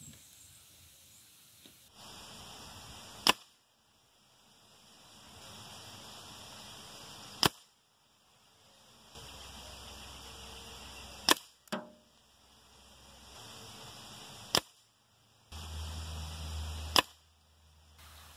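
A Norica Dragon air rifle fires pellets at a target 20 metres away, six sharp, close cracks spaced a few seconds apart, each followed by a short hiss between shots, no talking.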